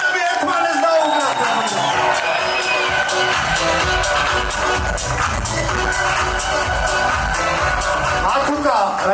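An audience cheers, whoops and applauds at a live show in New York, with a loud, continuous crowd roar and shouts, plus music underneath.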